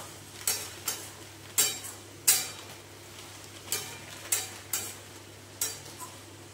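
A spoon stirs a vegetarian jackfruit curry (niramish echor) in a pot after garam masala goes in. Sharp metallic scrapes and taps come at irregular intervals, about a dozen in all, over a low steady hum of the cooking.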